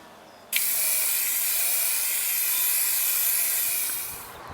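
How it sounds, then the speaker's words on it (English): PlastiKote chalk spray paint hisses steadily from an aerosol can onto an old chair, a loud, close, continuous spray starting abruptly and tapering off at the end. "So now I'm ready to start spraying."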